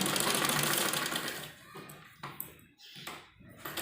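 Sewing machine basting a net baby frock with loose tacking stitches, running steadily for over a second and then stopping and starting in short bursts, close and fairly quiet.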